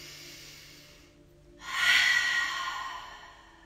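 A slow, deep exhale through the mouth during a yoga breathing exercise, rising suddenly after a quiet pause and trailing off gradually, breathy and close.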